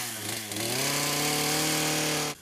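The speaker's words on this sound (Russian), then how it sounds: "На озере Шарташ в Екатеринбурге не смолкает шум пилы." A power saw, likely a chainsaw, cuts through ice on the frozen Lake Shartash in Yekaterinburg, where an ice hole is prepared for Epiphany bathing. The engine holds one loud, steady drone for about two seconds and then cuts off abruptly.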